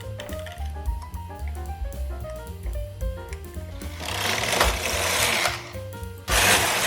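Melodic background music plays while a knitting machine casts on 40 stitches for an intarsia test swatch, the carriage making a rising mechanical rasp and then a loud sliding rush near the end.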